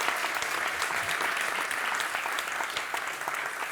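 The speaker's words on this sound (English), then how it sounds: "A round of applause, please, for the excellent question." An audience at a keynote talk on mobility and automation claps in a dense, sustained round of applause that stays even and fairly loud throughout, with no speech over it.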